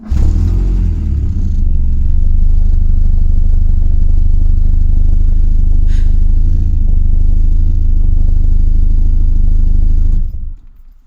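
An Audi Coupé engine, stored in a barn for 19 years, runs with a loud, deep, steady rumble and a rough, throbbing idle for about ten seconds before it cuts off abruptly.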